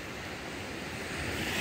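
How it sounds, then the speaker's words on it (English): Choppy sea waves wash against the shore in Belize, churned up by Tropical Storm Elsa, in a steady broadband roar mixed with wind buffeting the microphone that swells slightly toward the end. "the water's pretty choppy because of Elsa and all that."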